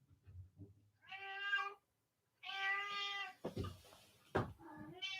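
A pet cat meows several times, with clear, drawn-out, tonal calls separated by short pauses. It sounds fairly close, and there are faint background noises and a hint of a voice.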